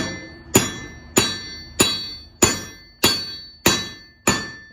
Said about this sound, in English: Now this is the anvil. This is a hammer.